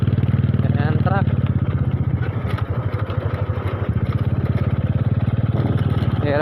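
A worn, rattling motorcycle engine runs steadily with a rough, pulsing drone and clatter close by throughout, while people talk over it.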